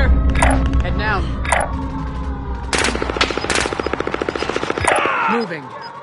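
Warzone gunfight with a rapid, sharp machine-gun burst hammering close by, set among other loud cracks and shots, busy game noise and radio-style voices speaking over the action.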